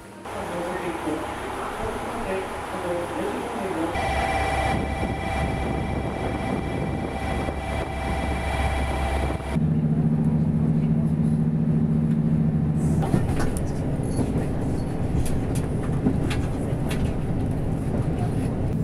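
Steady, loud rumble and hum inside the Kyushu Odan train travelling from Kumamoto toward Aso, shifting in tone partway through as the carriage rolls on continuously.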